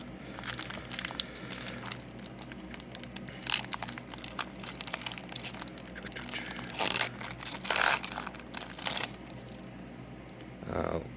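Pokémon Paradox Rift booster packs being torn open from a booster box, with crinkling foil wrappers and shuffled cards making close, busy rustling in uneven bursts of tearing and crumpling.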